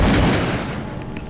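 Gunfire in the horror game Call of Cthulhu: Dark Corners of the Earth bursts as a loud, close boom that quickly trails off into a fading rumble.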